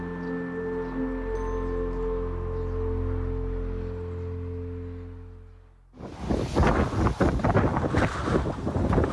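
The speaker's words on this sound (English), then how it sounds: "It's a little bit windy." A steady low mechanical hum gives way abruptly to loud, gusty wind in Scotland roaring and buffeting the microphone for the last few seconds.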